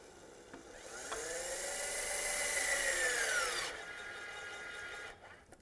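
An EvoTorque2 electric torque tool runs as it tightens a bolt, a steady whirring motor whine that rises and bends in pitch, holds for about three seconds, then cuts off abruptly, followed by a faint click.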